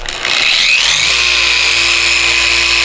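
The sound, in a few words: Meguiar's long-throw dual action polisher buffing car paint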